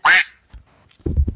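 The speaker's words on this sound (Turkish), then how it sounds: "Ördek." A single loud, nasal duck quack up front in Minecraft with an RPG mod, followed by a short pause and then a few lower, muffled thumps and blips.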